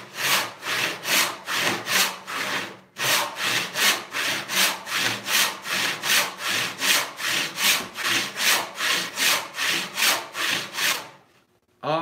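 Hand saw cutting through 8-inch wide walnut near knots, with a blade that is starting to dull, giving regular close rasping strokes that briefly pause and then resume at an even pace, alone without talk.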